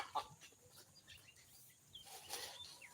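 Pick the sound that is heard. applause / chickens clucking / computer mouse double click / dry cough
chickens clucking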